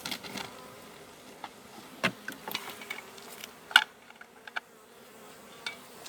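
Honey bees hum softly around an open hive during an inspection, a faint steady drone broken by scattered light clicks and taps of hive gear.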